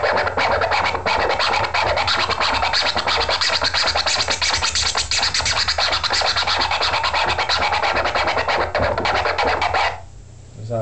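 Turntable boomerang scratch worked by hand with the crossfader, the record dragged back and forth in fast continuous rasping strokes sweeping high to low and back, loud and close, cutting off near the end.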